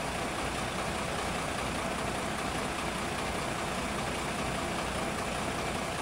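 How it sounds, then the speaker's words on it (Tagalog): Heavy traffic with idling trucks on the Maharlika Highway at kilometre 211, backed up by road works, makes a steady, dense engine rumble and road noise that holds constant throughout, with no talking. "O yan, matinding traffic oh."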